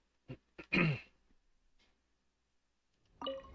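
A person nearby gives a couple of short coughs and a rough throat clear, then silence before a brief vocal sound at the end.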